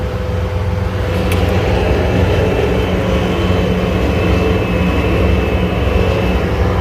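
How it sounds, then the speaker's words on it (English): A loud, steady diesel engine drones close by from a Bobcat skid steer loader, with constant low rumble and no letup. "sorry about the noise, we're in the Bobcat."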